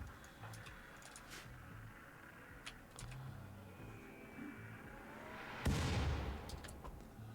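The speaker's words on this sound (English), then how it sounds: "we got one more shot to hit this with a mortar" A mortar fires once in the colony game Rimworld on a sea ice map, a sharp, fairly loud boom late in the clip over faint ticking and clicking game sounds.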